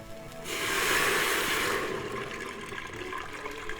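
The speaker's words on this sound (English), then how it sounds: "So then you're going to pour in 6 cups of water." Six cups of water pour into an Instant Pot in a loud rushing splash that starts abruptly, then settles into a softer, continuous trickle and gurgle close by.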